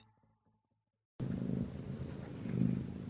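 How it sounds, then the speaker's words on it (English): A cat on a lap purrs, a low, steady rumbling close to the microphone, starting abruptly after a second of near silence and continuing evenly. "And you might actually hear a cat"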